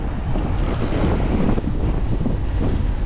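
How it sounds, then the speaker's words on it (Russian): Strong wind buffets the microphone outdoors on a mountain road trip in Crimea between Yalta and Ai-Petri, a loud, steady rumbling roar that fills the whole stretch without a break. "Это все из-за ветра этого гребаного."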